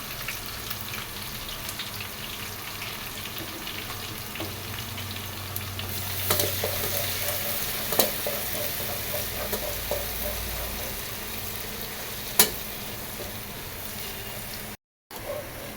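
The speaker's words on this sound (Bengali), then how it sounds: "তো পেঁয়াজটা একটু ভেজে নিলাম" Chopped onion frying in hot oil with whole garam masala (black cardamom, green cardamom and cinnamon), giving a steady, moderate sizzle with occasional stirring clicks and scrapes throughout.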